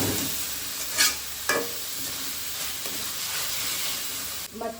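Chili sauce poured into ginger and garlic frying in a pan for gobi manchurian, a steady close sizzle with a few stirring scrapes and spoon knocks, no talking.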